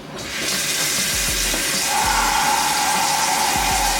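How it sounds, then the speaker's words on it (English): Hot water gushes steadily from a tap, a continuous broadband hiss that grows fuller after a couple of seconds, with faint low knocks underneath. "I'm going to put the hot water tap on."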